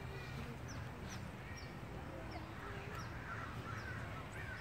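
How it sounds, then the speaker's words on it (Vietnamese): A large flock of crows cawing from trees beside a lake with wild ducks, repeated harsh calls scattered across the scene over a constant rumbling background, fairly distant and faint. "Quạ kêu cái mà quạ kêu, quạ kêu."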